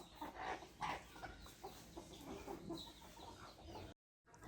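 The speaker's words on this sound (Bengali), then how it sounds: "বাড়ি ভর্তি মুরগি" Chickens cluck softly in a noisy yard, scattered short calls at a distance, ending with a brief moment of silence.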